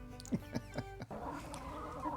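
Farm chickens give a few short clucks at a steady pace, close and fairly clear, then a softer stretch of background farmyard noise follows.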